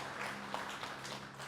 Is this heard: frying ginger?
no